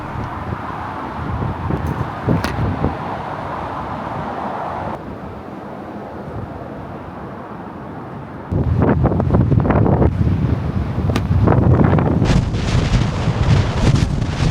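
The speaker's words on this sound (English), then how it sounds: "It's definitely a bit windy." Strong wind in Okinawa, Japan buffeting the microphone in loud rumbling gusts, easing briefly midway before surging back even harder.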